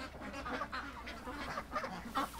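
Ducks close by let out a steady run of quacks and honking calls, busy and overlapping, set against a low constant rumble in the background.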